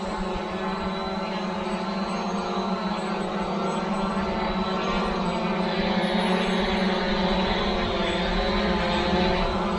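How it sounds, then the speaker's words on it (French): Two small consumer drones, an SG906 MAX and an SJRC F114K PRO, fly outdoors near a frozen pond. Their propellers give a steady, loud, continuous buzzing whine that holds level the whole time, with no voices. "Deux drones assez stables malgré tout."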